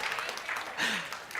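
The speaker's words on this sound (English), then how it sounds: "Are you guys clapping for that?" An audience claps in a church sermon setting, a brief, faint patter of applause with a voice speaking over it.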